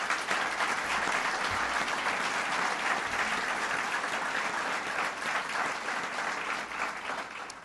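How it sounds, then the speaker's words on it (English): A large audience at an education reform event applauds steadily for several seconds, a dense, even wash of many hands clapping at a consistent level with no voices standing out. "Please give him a big round of applause"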